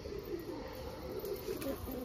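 Pigeons of fine quality, kept at a home loft, give low soft coos that run steadily close by throughout.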